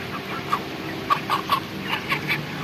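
A 28-day-old broiler chicken weighing about 1620 grams clucks in a series of short, separate calls, close by and fairly clear over a low steady background hum.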